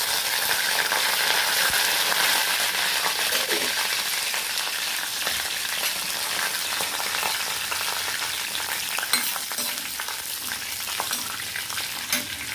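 Ridge gourd pieces fry in a pan with a steady, loud, broad sizzle that hisses continuously, with occasional faint clicks of stirring and no voices.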